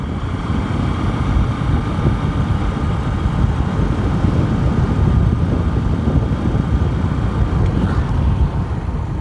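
A motorcycle engine runs steadily while riding in fifth gear, a constant close drone mixed with wind and road noise throughout, with no voice over it.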